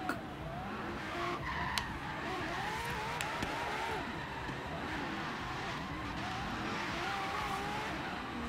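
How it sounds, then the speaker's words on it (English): A Ferrari F12 in the racing game Forza Horizon 3 spins donuts, its tires squealing and skidding continuously over a revving engine, loud and sustained with wavering pitch. "This car does donuts so well."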